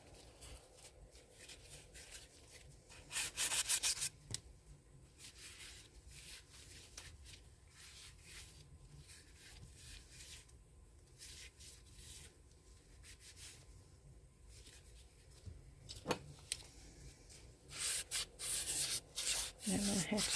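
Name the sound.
sanding the edges of a resin crete coaster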